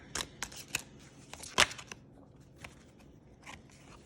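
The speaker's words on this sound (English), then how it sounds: "We're just going to shuffle and kind of see what comes out for you for the week" Tarot cards riffle and snap in a few quick bursts, with soft shuffling and handling noises between them, close up and fairly quiet.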